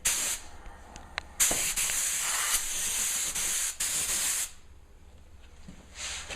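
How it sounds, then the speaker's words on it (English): A spray gun applying finish to kitchen cabinets hisses in several bursts, a loud airy spray with short pauses between passes, ending in a quieter stretch. "Same thing, spray your edges."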